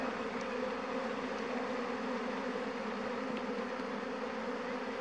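A honeybee swarm leaving the hive makes a constant, dense buzzing hum from many insects at once, moderately faint and unbroken for the whole stretch, with no talk.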